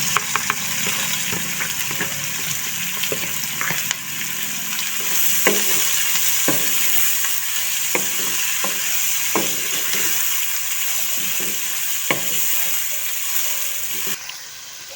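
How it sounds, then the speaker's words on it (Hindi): Onions fry in hot oil for stuffed eggplant masala, a continuous loud sizzle with regular spatula strikes and scrapes as they are stirred, heard close up over about fifteen seconds. "अब हम इसी ऑयल में हम लोग प्याज डाल देंगे फ्राई करने के लिए।"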